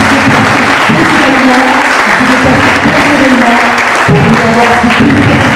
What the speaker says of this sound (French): Je vous demanderai d'applaudir bien fort.